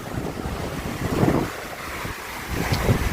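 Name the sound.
noisy sea and wind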